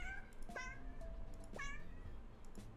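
A video game cat meows three times in a row, each cry a clear rising-then-falling call at even spacing, with steady low background hum underneath and no talking over it.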